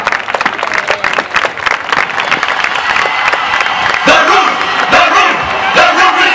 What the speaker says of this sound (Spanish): Fuerte el aplauso para ella para abrir esas puertas